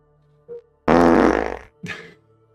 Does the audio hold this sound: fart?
yes